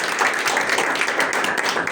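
A room full of people claps at a surprise birthday gathering, dense and loud applause that runs evenly throughout with no pauses.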